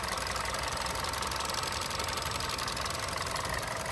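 A Hyundai Verna's 1.6-litre petrol engine runs at a steady idle under an open bonnet, a dense, even, close rumble with no voices over it.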